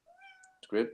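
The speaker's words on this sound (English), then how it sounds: "Is that a cat? It is." A cat gives one clear, rising-then-falling meow, fairly close, followed at once by a person speaking.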